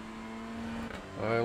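Honda Civic touring car in iRacing at Brands Hatch, a steady engine drone that shifts pitch and rises near the end, with someone talking over it.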